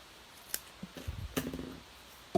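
Scissors trim card paper during a paper-crafting project, giving a few sharp snips and rustling cuts close to the microphone, ending on one more crisp snip.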